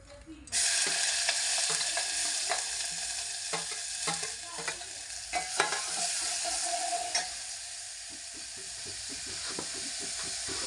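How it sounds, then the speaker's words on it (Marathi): Drumstick leaves and raw onion are stirred with salt in hot oil, making a loud, continuous sizzle and hiss close by, broken by repeated scraping strokes of the spoon. "लगेच भाजी टाकून मीठ टाकून हलवायची"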